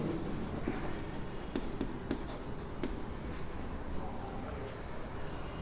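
Chalk or marker scratching out letters on a classroom board, light intermittent taps and strokes over a steady room hiss, with a voice faintly present.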